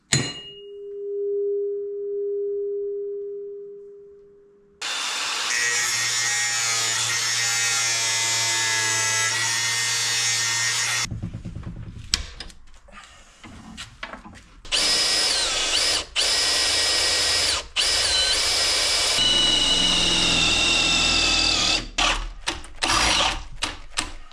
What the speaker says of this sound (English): Now I need to make some holes in here and round this up a bit